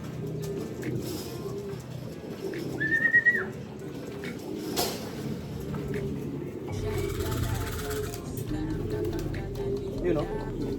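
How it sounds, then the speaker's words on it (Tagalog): Pigeons cooing softly in a loft, low murmuring calls mixed with a brief whistle and rustling, fairly close, with background noise and occasional handling sounds. "Medyo nilalapitan na niya yung ibon natin mga kalapatids na pinaproject."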